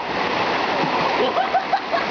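Bathers splash in the cold natural pool of Puteri at Gunung Ledang, a steady watery wash with brief splashes throughout, while voices chatter underneath.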